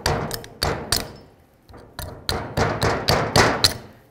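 Metal brake pad tins being pried and tapped out of the rear caliper bracket on a 2017-or-later Ford F-350 dually, a series of about eight sharp metallic taps and knocks spaced irregularly, close and fairly loud with no talk.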